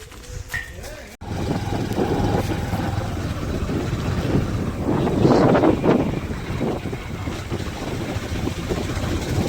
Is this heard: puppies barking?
no